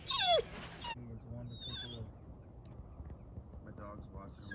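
A dog watching a duck hunt gives soft, repeated whimpers and yips at low level, with bird calls and outdoor background and a loud burst of other sound at the very start.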